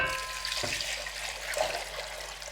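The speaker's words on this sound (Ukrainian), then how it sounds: "заливаю холодною водою" Steady rush of cold water pouring from a tap into a pot, a continuous hissing splash that stays even throughout with no voices.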